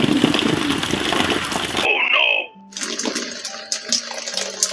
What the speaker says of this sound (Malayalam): അത് ഞാൻ വാഷിംഗ് മെഷീൻ കഴുകിയ വെള്ളം ഒഴിച്ചതാണ് അങ്ങോട്ട്